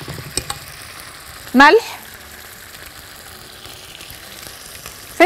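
Tomato sauce in hot olive oil gives a faint, steady sizzle close by, while a voice briefly speaks over it.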